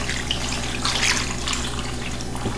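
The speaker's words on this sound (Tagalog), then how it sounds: "tapos lalagyan natin siya ng tubig." Water pours steadily and continuously into a cooking pot holding pork head for paksiw, a dense rushing splash with no pauses.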